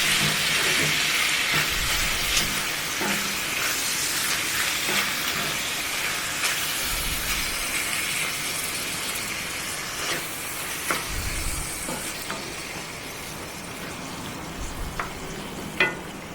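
Beef ragu base with a tin of chopped tomatoes simmering and frying in a pan, a steady broad sizzle and hiss running continuously throughout, with occasional soft stirring bumps and clicks, close and moderately loud, no talking.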